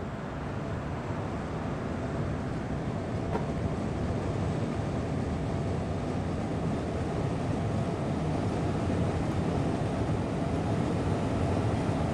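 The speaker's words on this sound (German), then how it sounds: "jetzt gucken wir uns das hier mal an, wie der Zug wegfährt" A train pulls away in Train Simulator 2016 on the Cologne to Bonn route, heard as a steady, loud, broadband rumble and roll that holds evenly throughout with no voices.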